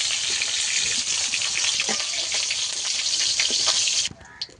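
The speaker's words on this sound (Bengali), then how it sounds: "মাছটাকে উল্টে দেবো এগুলো ঠিক আমি এইভাবে ভেজে নেবো" Pieces of rohu fish fry in oil in a pan, a loud, dense sizzle that holds steady before cutting off abruptly near the end.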